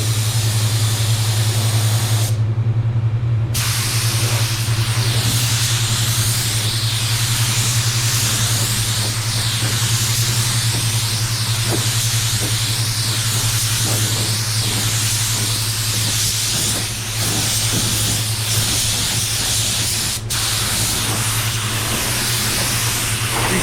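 Spray gun hisses continuously as two-tone water-based paint goes onto a car, a loud steady airy spray with a low hum beneath, one brief pause early, then unbroken spraying.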